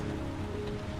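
Steady rain in the video game Heavy Rain, a dense even hiss of falling drops filling a brief moment under a low hum, with no voices.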